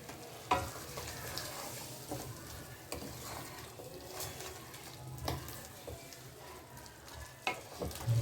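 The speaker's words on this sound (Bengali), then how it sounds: "এবার আমি মশলাটা কষতে দেব।" Ground spice masala frying in a pan with a little water, stirred with a utensil that makes soft irregular scrapes and taps over a quiet, steady sizzle, close-up and faint, with no voices.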